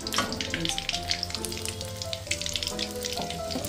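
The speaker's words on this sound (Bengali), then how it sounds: "এইভাবে ভালো করে মাখিয়ে নিয়ে আমি আরেকবার তেলে দিয়ে দিচ্ছি" Battered lote fish fingers frying in hot oil in a kadai, a steady crackling sizzle with fine bubbling, moderately close and continuous with no talking.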